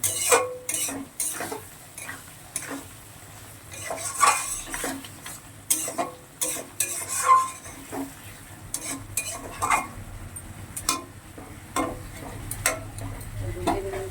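Prawns sautéed in mustard sauce in a pan, stirred with repeated clattering scrapes and taps of a utensil against the metal over a soft background sizzle, close up with no talking.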